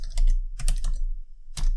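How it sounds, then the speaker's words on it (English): Bursts of rapid keystrokes on a computer keyboard as Python code is typed, clustered clicks separated by brief pauses, close and crisp with no talk. "let me type this all out"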